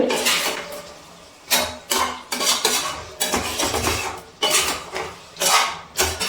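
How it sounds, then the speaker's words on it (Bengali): A spatula scrapes and clanks against a pan while kadai chicken with sliced green chillies is stirred, in repeated loud bursts of metallic scraping separated by short pauses. "সেটাই দিয়ে দিচ্ছি। নাড়াচাড়া করে নিচ্ছি ভালো করে।"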